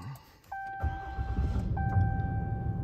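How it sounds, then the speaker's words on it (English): A 2022 RAM pickup truck's engine turns over and starts inside the cab, with a two-tone chime sounding twice before a low engine rumble settles into a steady idle. "we're going to start the truck"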